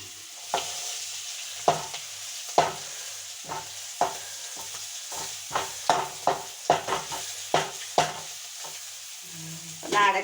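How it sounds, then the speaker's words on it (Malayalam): Mussels frying in a pan give a steady close sizzle, broken by repeated stirring scrapes and clinks at an uneven rhythm, with no talk. "നമ്മളെ കടുക്ക ചട്ടി കിടന്നിങ്ങനെ ഫ്രൈ ആവണം."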